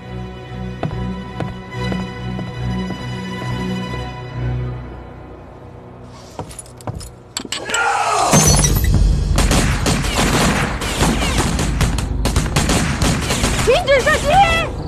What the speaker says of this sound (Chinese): 停止射击！